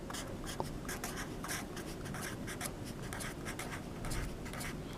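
Pen or pencil writing on paper, a steady run of scratchy strokes close by with no talk, during a classroom lesson on making an inference.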